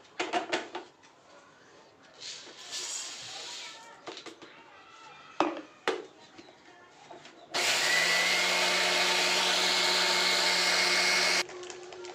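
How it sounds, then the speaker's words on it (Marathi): Jowar (sorghum) grains are coarsely broken in a mixer grinder for homemade poultry feed: a loud, steady grinding roar of about four seconds follows a stretch of talking and handling noises. "आपण अशा प्रकारे ज्वारीला सुद्धा आपण मिक्सर ग्राइंडरमध्ये"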